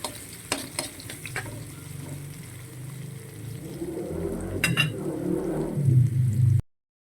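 Leftover green chili stirred in a hot pan for the Filipino dish dinengdeng: sizzling frying with scraping and clinking utensil strokes, growing louder and busier toward the end before cutting off.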